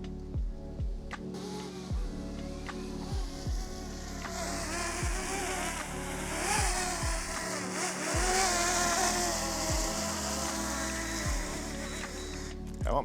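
A DJI Mini 2 drone descends to land in strong, gusty wind, its rotors giving a close, steady buzzing whine with repeated wind-buffeted thumps and swells throughout.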